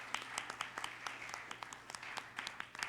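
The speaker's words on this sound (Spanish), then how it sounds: "un fuerte aplauso para la pastora Otilia" A church audience at a Pentecostal spirituality forum claps for a pastor, a light, scattered round of applause from a modest crowd, fairly distant and steady for a few seconds.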